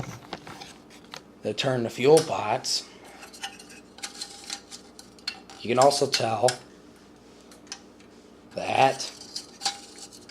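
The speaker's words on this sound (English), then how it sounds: "Now if I take and I turn the fuel pots" Metal fuel pots of Adlake Reliable switchman's lanterns are turned, giving close clinking, scraping metal sounds in short clusters between stretches of someone talking.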